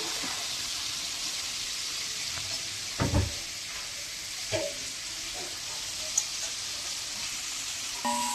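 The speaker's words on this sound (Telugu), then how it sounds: "ఈ వెల్లుల్లి ఎండుమిర్చి వేగిన తర్వాత ఇప్పుడు నెక్స్ట్ కరివేపాకు" Garlic and dried red chillies frying in oil with curry leaves dropped in, a faint continuous sizzle broken by a few brief crackles and spatters, close and without speech.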